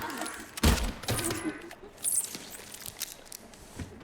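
Gunshots in the video game Silent Hill 2 Remake: a few sharp, loud shots fired in quick bursts, separated by brief gaps, over a low rumbling game ambience.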